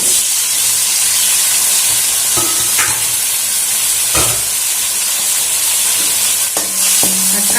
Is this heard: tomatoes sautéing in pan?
yes